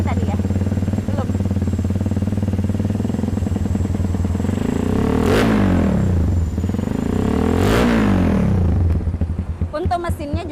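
A supermoto motorcycle with an added exhaust cover, engine still under factory seal and not yet warmed up, idles loudly up close and is blipped into two strong revs that rise and fall before settling back to a throbbing idle.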